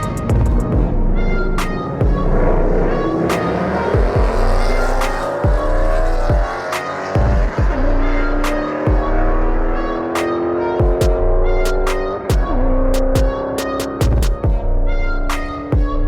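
A Dodge Challenger and a Ford Mustang drag race side by side at a Tucson street race, with loud sustained engine roar, rising revs and gear shifts, sharp pops and tire noise up close throughout.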